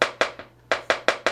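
A metal cake pan for a half sheet cake filled with batter is tapped against a counter, seven sharp knocks in a quick uneven rhythm, close and fairly loud with a short pause midway.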